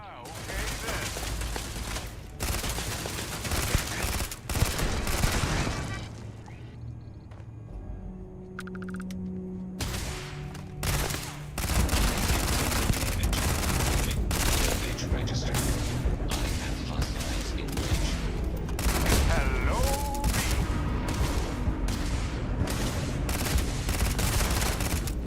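Sustained rapid gunfire and booming impacts in Starfield, loud and near, nearly continuous bursts with a short lull around the middle, while someone talks over the shooting.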